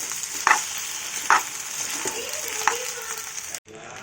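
Pasta tossed and mixed in a hot pan, a steady sizzle punctuated by a few spatula scrapes, with a faint voice in the background before the sound cuts off abruptly.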